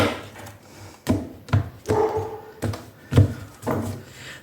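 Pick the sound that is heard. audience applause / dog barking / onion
dog barking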